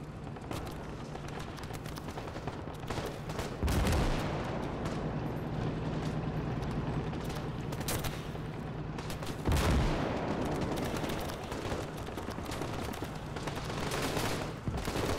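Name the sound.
gunfire in a city battle, from the video game Gates of Hell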